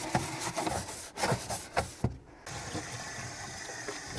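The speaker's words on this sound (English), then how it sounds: "Some water. You just want to clean it really well." A sample bucket at a fish hatchery is rinsed with water, with sloshing, splashing and rubbing scrapes against the bucket wall in uneven bursts, close and fairly loud.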